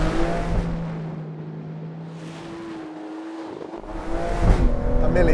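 An Aston Martin Vanquish sports car driving on a road, its engine droning steadily at low revs, easing off mid-way, then swelling louder again with a rising rev near the end.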